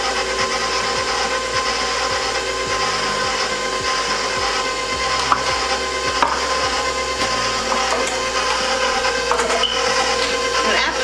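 An electric mixer blends chocolate cupcake batter in a bowl, giving a steady, continuous motor whir with faint scraping and rattling throughout, close and fairly loud, with no talking.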